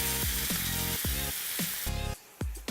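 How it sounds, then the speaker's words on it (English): Lobster meat fries fast in brown butter in a hot pan, hissing loudly and steadily, with a few stirring scrapes and shifts in the sizzle. "So I'm just gonna take the meat now, throw it in a pan with some butter and cook them really fast."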